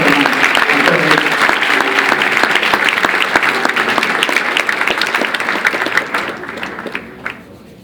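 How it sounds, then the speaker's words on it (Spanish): Loud, sustained applause from a congregation at a church vigil service fills the hall, with a voice briefly audible near the start; the clapping holds steady for several seconds, then thins and fades out. "Denle un fuerte aplauso"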